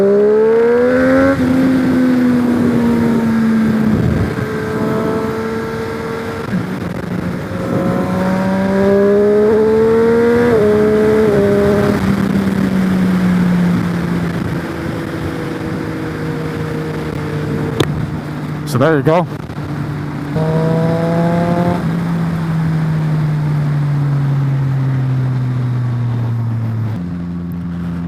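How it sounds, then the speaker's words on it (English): A Triumph Street Triple motorcycle fitted with a LeoVince LV One exhaust buzzes and revs on the move, its pitch climbing and falling through gear changes and holding loud and close throughout, with someone talking over it. "Nice to give you a listen to this exhaust as well"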